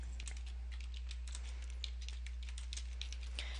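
Typing on a computer keyboard, a quick irregular run of soft key clicks at close range over a steady low hum, with no voice.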